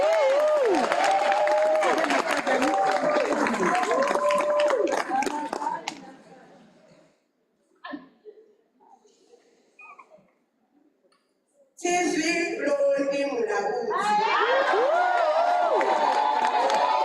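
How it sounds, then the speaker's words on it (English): An audience at a STADIO Waterfall spring graduation ceremony applauds loudly. The clapping fades out to a near-quiet stretch, then swells again to full, steady applause. "Let's clap, let's clap."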